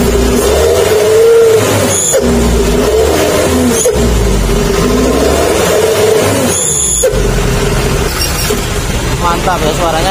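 A Hino Dutro truck fitted with a Srigala aftermarket exhaust revs repeatedly, its deep bassy engine note swelling and falling loud and close throughout, with a few sharp bursts between revs.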